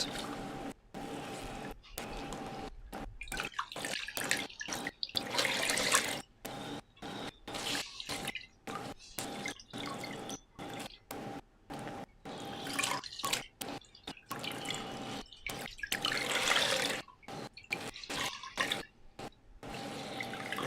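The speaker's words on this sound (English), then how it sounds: "So I'm just going to squeeze this out." Wet fabric being squeezed out for dyeing releases water in a stream of irregular drips and trickles, close and fairly quiet, continuing throughout.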